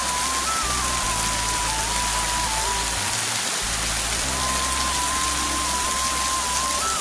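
Heavy rain pours down over the Kapan area of Kathmandu, Nepal, a dense, loud and unbroken hiss of water striking surfaces, steady for the whole stretch with no voices.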